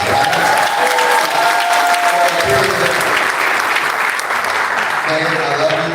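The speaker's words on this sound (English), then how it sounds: "So give another round of applause for my wife." An audience at a special public announcement applauds loudly and steadily throughout, a dense wash of clapping with a few tonal voices rising through it.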